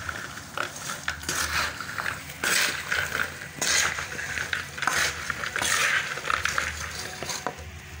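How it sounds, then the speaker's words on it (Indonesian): Mushrooms frying in a pan for a crispy barbecue-flavoured snack, with a soft sizzle under repeated clinks and scrapes of a metal utensil against the pan in irregular bursts, close by and fairly quiet. "Sekarang kita proses penggorengan."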